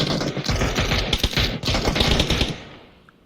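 Dense automatic gunfire from PlayerUnknown's Battlegrounds rattles in fast, continuous bursts, loud and close, then cuts off and decays into quiet.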